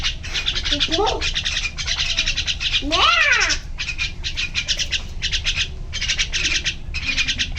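A cat gives two rising meows, one short and one longer, over a steady rhythmic chirping of birds or insects in the background, in a village.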